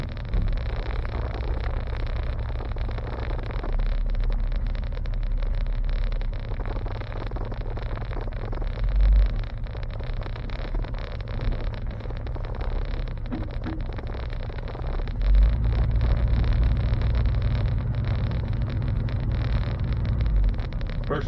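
A 1972 Chevy C10 pickup with a TH350 transmission pulls away in first gear, its engine drone steady and loud from inside the cab, with rough surging bumps and a heavier low rumble late on, no talking.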